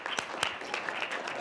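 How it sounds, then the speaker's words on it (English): An audience at a real estate talk applauds in a steady, dense round of clapping, with a few sharper individual claps standing out above the crowd. "Can we get a bigger round of applause for these guys?"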